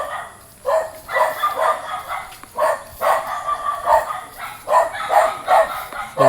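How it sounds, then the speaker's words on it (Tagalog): Several dogs bark repeatedly outdoors in a coconut grove in the Philippines as a storm approaches, loud overlapping bursts in irregular clusters, fairly close, with a faint bit of distant talk underneath. "Marami mga aso."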